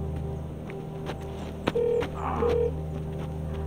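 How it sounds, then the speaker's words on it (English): Telephone dialing with two short keypad tones among faint clicks and handling noises, set over a low background hum in a quiet room. "Junior, get Homeland on the phone."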